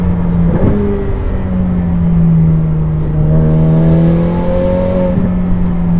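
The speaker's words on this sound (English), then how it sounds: "The turbos actually sound really good now that we've put the downpipes and the exhaust on it" A Ferrari F8 Tributo twin-turbo engine with new downpipes and a Ryft exhaust revs up and down with a throaty, rising and falling drone, loud and close, with no talking.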